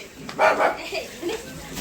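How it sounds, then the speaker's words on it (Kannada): A dog barks a few times, close and moderately loud, with faint voices around it. "ಬೊಗಳ್ತಾವಣಕ್ಕಿ"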